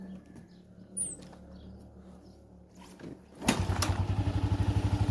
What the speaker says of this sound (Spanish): Vamos a encender la moto para que ustedes puedan ver qué es lo que hace.